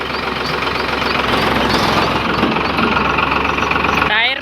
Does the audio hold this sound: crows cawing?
no